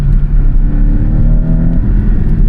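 Porsche 718 Cayman T with the sport exhaust and PASM engaged, its engine giving a loud, close, steady droning growl that holds for a couple of seconds.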